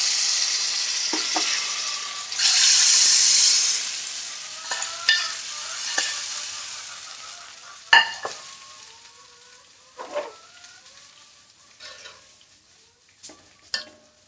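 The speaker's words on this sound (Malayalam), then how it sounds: "നമ്മൾക്ക് ഈ മോര് കറിയിലേക്ക് ഒഴിക്കാം." Buttermilk is poured into a hot curry pan with a brief loud hiss and sizzle, followed by a quiet bubbling simmer and scattered close clinks and scrapes of a spoon stirring.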